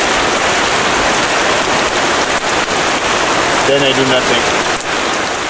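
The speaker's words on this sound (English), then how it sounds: "I waited for the rain to stop" Steady rain pours down around a shelter on a remote island, a dense continuous hiss throughout, with someone speaking briefly over it near the end.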